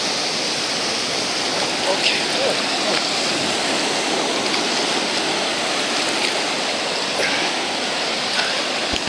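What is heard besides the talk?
water flowing in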